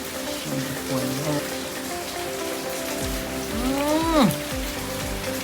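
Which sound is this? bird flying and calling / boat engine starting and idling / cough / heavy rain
heavy rain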